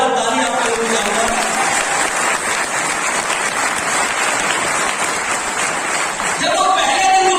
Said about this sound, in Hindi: हमारी कंपनी के सीईओ एमडी बेटा संजीव कुमार सर के लिए का जोरदार ताली आपको देना चाहूंगा।